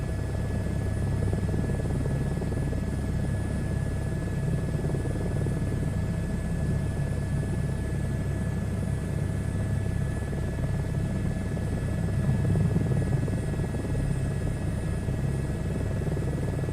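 A helicopter in a flight simulator game drones on steadily, with a dense, continuous rotor and engine thrum and a faint high whine. It stays loud and unchanging throughout, with no voices.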